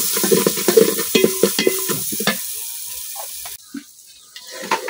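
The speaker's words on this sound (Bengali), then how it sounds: "মশলা কিছুক্ষণ কষাই" Spices being stirred and fried in a pan for beef khichuri, with repeated scraping stirs over a crackling sizzle, loud and close, then quieter sizzling with occasional spoon scrapes toward the end.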